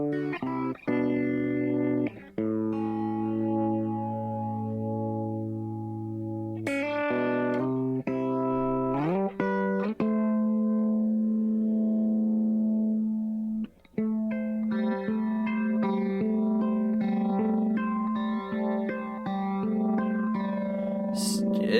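An instrument played through a Chase Bliss Lost and Found multi-effects pedal produces sustained, harmonically rich distorted tones with shifting pitches and echoing, chorus-like textures, continuous and fairly loud throughout.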